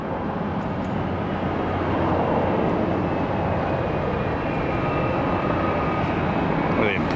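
An airliner taking off from runway 1 left at Tampa makes a loud, sustained jet roar that swells slightly and stays strong across the clip. Radio chatter and nearby voices are mixed faintly underneath.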